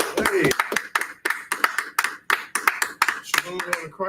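People clap in a steady, rhythmic beat at a gathering, the sharp hand claps repeating evenly while voices carry over them.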